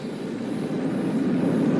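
A steady, droning airplane engine hums at cruising altitude in a radio drama about a ghost plane, a continuous, fairly loud low rumble that swells slightly with no talking over it.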